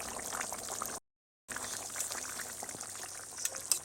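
Ghugni, a yellow pea curry, bubbling in a pot as the lid is lifted, a steady close simmering hiss with a brief break partway through and soft clinks near the end.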